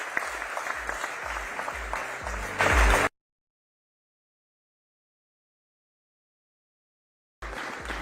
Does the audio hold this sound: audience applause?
yes